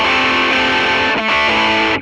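Electric guitar played through a bright virtual amp model in STL Tones AmpHub, a dense, driven chord ringing steadily for about two seconds with a brief dip midway, loud and alone.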